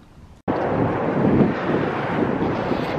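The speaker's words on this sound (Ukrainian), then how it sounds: "трішки вітряно, але все одно вітер теплий" Warm wind blowing outdoors on a city street, a loud steady rushing buffet against the microphone that starts abruptly and continues without a break.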